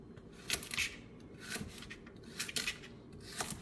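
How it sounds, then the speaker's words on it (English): A kitchen knife slicing baby carrots in halves and thirds on a cutting board, giving a few sharp, soft crunching cuts spaced apart against quiet room noise. "So I cut them in 1/2, and then cut each 1/2 in 3."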